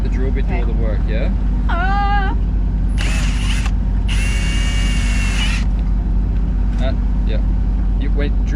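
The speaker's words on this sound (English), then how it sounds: "keep the drill on and pull it out" A power drill whirs in several bursts with pauses between them, over steady low mechanical rumble.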